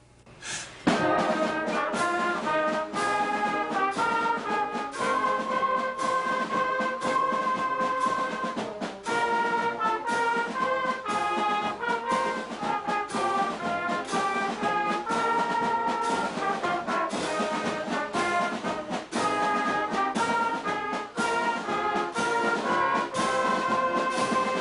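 A junior high school band plays continuously and loudly, brass and woodwinds blending in a busy, sustained performance with no talking over it.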